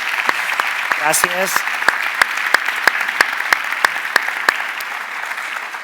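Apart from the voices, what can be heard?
audience applause for the panel participants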